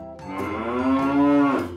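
A black-and-white cow gives a single long, loud, close moo with a rising then sustained low tone that tails off.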